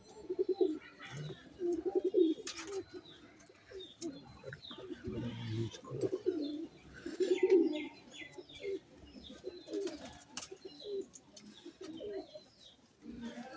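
Fantail pigeons coo close by in repeated low, throaty bursts that come and go every second or two, with a few thin chirps in between.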